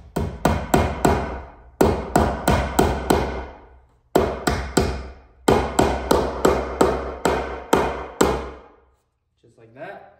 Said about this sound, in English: So basically just gonna put that up against the wall and then hammer away.